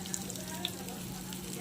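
Ginger, black pepper and fennel seeds frying in oil, a continuous close sizzle with a couple of small pops, brief and steady throughout.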